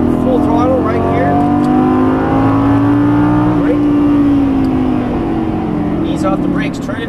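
Lamborghini Gallardo V10 pulling at full throttle on a race track, a loud close engine wail rising steadily in pitch through the gear, dipping briefly at a shift and climbing again, with some voice heard under it.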